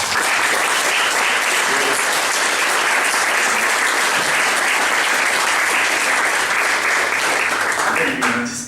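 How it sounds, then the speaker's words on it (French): Sustained crowd applause at a developer meetup on compute shaders, a dense continuous wash of clapping that holds steady for several seconds before tapering off near the end. "Donc déjà, je pense qu'on peut t'applaudir."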